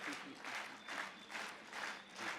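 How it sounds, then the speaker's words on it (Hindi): Audience at a Hindi comedy poetry show applauding in steady waves of clapping, moderately loud and continuous throughout with crowd noise, no talk over it. "जब तक ताली नहीं बजाओगे मैं नहीं गाऊंगा।"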